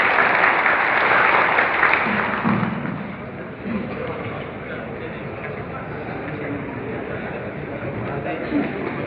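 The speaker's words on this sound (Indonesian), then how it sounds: "Mari kita beri aplaus yang meriah sekali lagi untuk para narasumber" Audience applause at an anti-narcotics event, a loud dense burst of clapping that fades to a softer sustained patter while a speaker talks over it.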